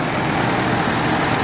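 A 2012 Ford 6.7 diesel engine idles with a dense, steady loud clatter and hiss, close by and constant across the short moment.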